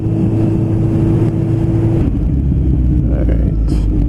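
A Kawasaki Z1000 street motorcycle ridden off-road on a dirt practice area makes a loud, steady engine drone that drops abruptly partway through as the throttle eases, followed by rougher rumbling and a short higher whine near the end.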